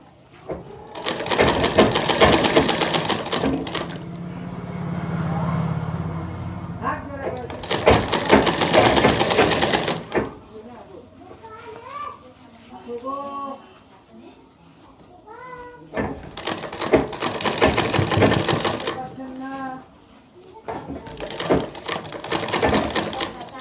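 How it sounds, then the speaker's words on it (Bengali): A sewing machine stitches a shirt in four long bursts of rapid, buzzing stitching, separated by pauses filled with talking. "সেই এক চাপ বাইরে আর এক চাপ ভিতরে রেখে সেলাইটা মেরে নিতে হবে।"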